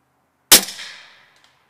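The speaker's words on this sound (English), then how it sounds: "This is very quiet and comfortable shooting without ear protection." A single sharp gunshot from a Canik TP9 SF pistol fitted with a threaded extended barrel, with a loud crack and a short ringing decay outdoors.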